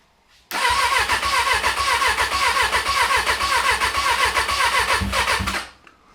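A van engine with a manual choke cranks briefly, catches and runs with a loud, steady, rapid throbbing for about five seconds before cutting off abruptly.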